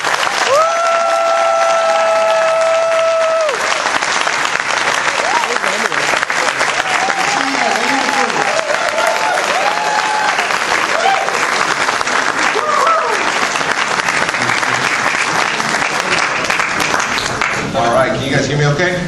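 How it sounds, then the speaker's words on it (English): An indoor London audience claps at a business training event as a speaker is welcomed, with steady applause throughout, some cheering, and a voice over a loudspeaker at the start. "please give Andy McWilliams a warm London reception"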